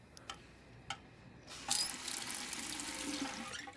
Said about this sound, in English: the helpless feeling of watching your sink drip